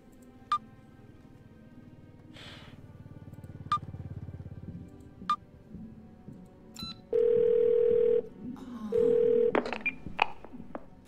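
Phone dialing in the video game 12 Minutes: a few isolated beeps, then two long, loud steady tones like a ringback signal, with soft clicks and room noise between them.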